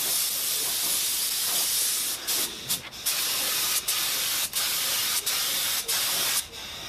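Lacquer sprayed onto a handmade wooden box: close, hissing spray bursts, several in a row, separated by brief pauses.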